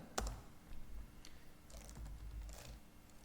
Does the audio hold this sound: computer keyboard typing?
yes